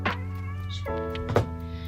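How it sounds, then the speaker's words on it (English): A house cat meows a couple of times nearby, short pitched calls over a steady low indoor hum, with no clear talking. "I also have a cat who's actually right here."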